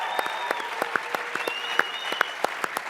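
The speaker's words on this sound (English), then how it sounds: "Give her a big round of applause." Brief burst of audience applause at a celebrity panel on success, with quick scattered claps over a steady crowd wash and a few sharp louder hits.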